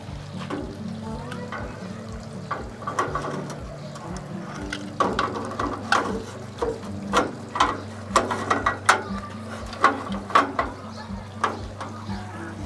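An Allen wrench tightens the screws of a railing planter holder, giving a run of small, close ratcheting clicks that grow denser and louder toward the end over a steady low hum.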